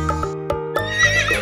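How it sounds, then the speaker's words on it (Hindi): A horse neighs in a loud, clear whinny with a quivering, descending pitch, preceded by a few short snorting bursts, close and alone with no talking. "घोड़ा"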